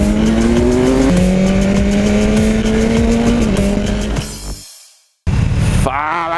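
A BMW S1000R naked sport motorcycle screams under hard acceleration, its high engine note climbing through quick gear changes, loud and close, then cutting out to near silence before a brief rising rev.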